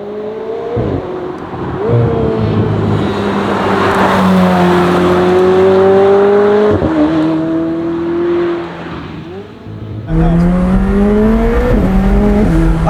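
A McLaren 765LT with a roof scoop accelerates hard, its engine note climbing steeply through several quick gear changes, each marked by a brief drop and a fresh rising howl, loud and close from inside.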